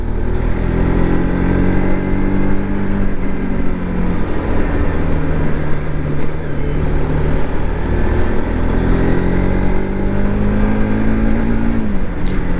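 A modified Bajaj RS200 motorcycle engine runs loud and close, a dense steady drone with slowly rising and falling pitch as the revs shift, continuous throughout with no speech.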